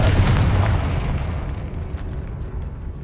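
A Confringo blasting spell from the Hogwarts Legacy video game bursts in a loud, booming explosion at the start, with a rumbling low-end decay that fades over about three seconds.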